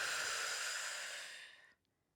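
A long, deep exhale during a Pilates stretch, a soft breathy hiss close to the ear that holds steady and then tapers off into silence.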